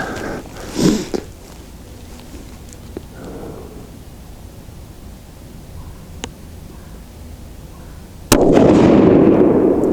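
A Thompson Center Compass rifle fires a Hornady 168-grain Z-Max test load outdoors: one sharp, loud crack near the end followed by a sustained roar, with a duller thump earlier.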